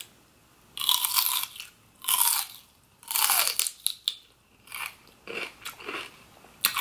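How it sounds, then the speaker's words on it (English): Raw vegetables from a platter bitten and chewed up close, a series of loud crisp crunches in irregular bursts separated by short pauses, no talking. "Hear that, hear this crunch real quick."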